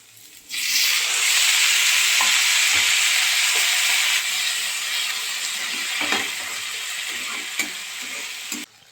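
Chopped tomatoes hit a hot pan with fried green chilies and fry with a loud, steady sizzle that continues throughout, with a few faint scrapes of stirring.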